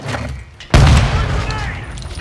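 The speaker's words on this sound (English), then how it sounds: "a grenade!" In Modern Warfare 2, a grenade goes off with a sudden heavy boom after a brief stretch of game sounds, followed by a lingering rumble and scattered battle noise, with voices present.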